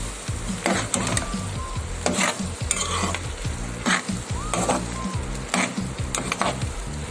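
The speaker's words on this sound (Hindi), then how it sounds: "ये हमारी गोभी और आलू थे ये हम इसमें ऐड कर लेंगे और अच्छे से मिक्स कर लेते हैं" Cauliflower and potatoes fry in a pan for a curry, a continuous close sizzle broken by rhythmic stirring scrapes of a spoon against the pan.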